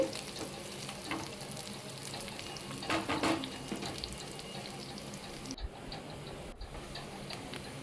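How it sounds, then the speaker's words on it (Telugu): Sliced onions frying in four tablespoons of oil for a cauliflower and potato fry, giving a continuous low sizzle with a few stirring scrapes, steady and close, with no speech. "నాలుగు టేబుల్ స్పూన్ల ఆయిల్ వేసుకొని మనం కట్ చేసి పెట్టుకున్న ఉల్లిపాయ వేసుకొని కొంచెం కలర్ చేంజ్ అయ్యే వరకు వేయించుకోవాలి"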